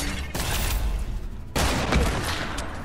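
Sniper rifle shots ring out in a Fortnite battle, two sharp cracks with booming tails roughly a second apart, loud and close with no talking.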